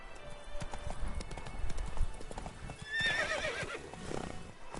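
Roach the horse in The Witcher 3 gallops with steady clip-clopping hooves, then lets out a loud neigh partway through, the hoofbeats continuing underneath without talk.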